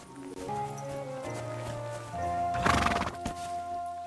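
A horse in the video game Kingdom Come: Deliverance 2 gives a loud whinny and snorts near the listener, with clip-clop hooves and a burst of rustling clatter in the middle, over a sustained musical background.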